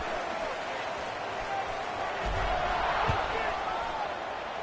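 A stadium crowd in an NCAA 26 college football video game gives a steady, dense roar, loud and continuous, with a few dull thumps and a play-by-play voice mixed into it.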